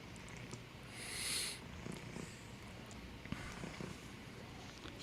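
A cat purring, a soft continuous rumble carrying faint snuffling breaths and a brief higher rustle, close but quiet.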